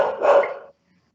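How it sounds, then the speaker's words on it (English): A single loud bark from a female dog indoors, heard close up, followed by silence. "there's no one to stop her from barking but me"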